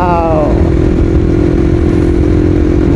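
A fully modified Bajaj NS 200 motorcycle is ridden at night, its engine droning steadily and loudly beneath heavy wind rush, with a brief rising whine at the start.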